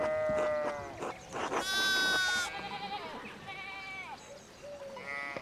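Sheep bleat in the medieval video game Pentiment: several wavering, nasal bleats that overlap and trail off, some loud and close, others softer, over a steady ambient background with no talking.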